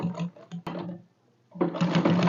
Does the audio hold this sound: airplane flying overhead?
no